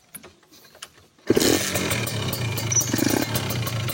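After a moment of quiet, a cold, not-yet-warmed two-stroke motorcycle engine, run on mixed racing and regular side oil, starts up close by and runs with a rough, buzzing idle and uneven revs.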